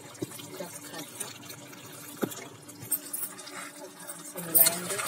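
A spoon stirs kundru and potato sabzi in a cooking pan, giving soft scrapes and a few sharp clinks at irregular moments, fairly quiet against a low background hiss.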